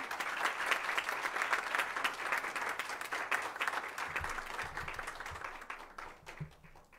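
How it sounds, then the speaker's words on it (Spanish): A panel audience gives the speakers a final round of applause, dense sustained clapping for several seconds, with some low rumbling near the end as it begins to taper off. "un último aplauso para ellos"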